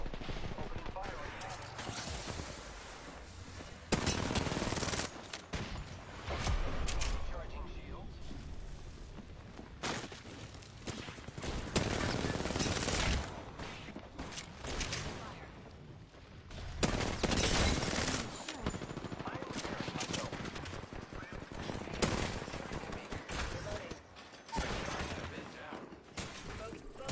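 Gunfire in the battle royale game Apex Legends on the Storm Point map, bursts of automatic weapon fire and explosive impacts coming in dense clusters across the stretch, with in-game voice callouts and player talk mixed over the shooting.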